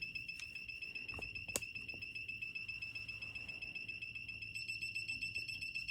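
A circuit breaker finder receiver gives short, sharp electronic beeps over a faint steady tone in a quiet room, one louder chirp standing out near the middle.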